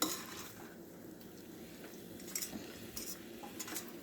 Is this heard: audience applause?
no